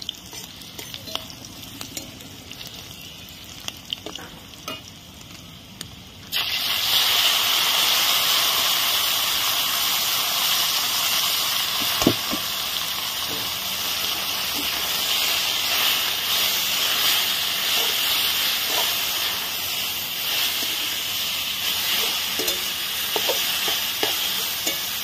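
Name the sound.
water spinach added to a hot pan, sizzling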